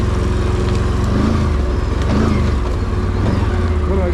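A Can-Am Renegade 1000 ATV engine drones steadily while riding, with a low, continuous rumble and small rises in revs as the throttle shifts.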